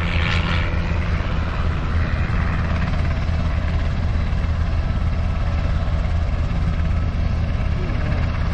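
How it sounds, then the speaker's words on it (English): A UH-60 Black Hawk helicopter's engine and rotors roar steadily and loudly throughout at an airfield, a constant heavy mechanical drone without pauses. "Chopper can fly with one turbine."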